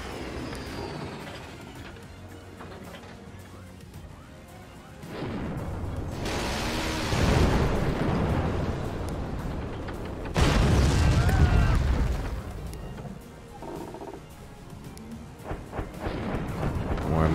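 Missile strikes and explosions in the Forts real-time strategy game during a tournament final, with heavy rumbling booms swelling twice over a background of mechanical clatter and game noise.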